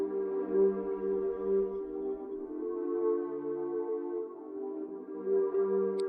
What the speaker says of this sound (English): I actually choose a really nice soothing type of atmosphere sound.